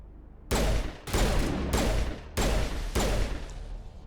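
Five heavy pistol shots ring out in Mass Effect, spaced about half a second apart, each one a loud close crack with a short decaying tail and no voices over them.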